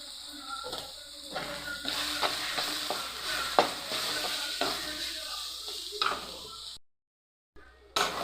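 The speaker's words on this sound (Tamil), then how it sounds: "சிம்ம கையில் வச்சு கை விடாமல் கலக்கி விடணும், இல்லைன்னா அடி பிடிச்சிடும்." Chicken masala for chicken kulambu is stirred in a pan on low heat, a soft continuous sizzle with repeated scraping strokes of a spoon, fairly quiet, with a brief gap of silence near the end.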